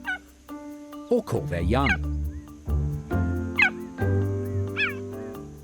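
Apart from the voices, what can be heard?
cheetah chirping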